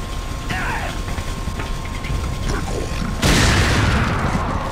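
A shot detonates an enemy's dynamite in Resident Evil 4 Separate Ways, setting off a sudden loud, broad explosion burst late in the clip. Before the blast come mechanical clanks and ratcheting game noises.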